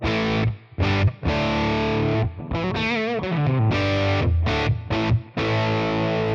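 Electric guitar run through a Tonex Gibson G40 amp model with a touch of reverb plays distorted chords and single-note phrases, loud and alone, with brief pauses between bursts.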